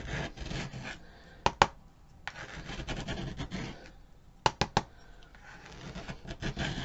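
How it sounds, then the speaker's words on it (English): Glitter being scraped off a Dollar Tree sign, close rasping strokes in bursts with a few sharp clicks and scrapes between them, no voices. "I love it when the glitter scrapes off this easily."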